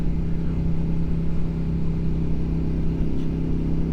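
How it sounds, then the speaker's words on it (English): Car engine cruising steadily in fourth gear at about 42 mph on a highway, a continuous low droning hum with a steady pitch, loud and close with no talk. "Doing 42 right now, just cruising, staying in 4th, keeping my RPMs at like 4"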